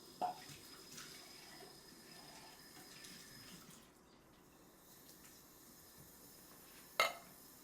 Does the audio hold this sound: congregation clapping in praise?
no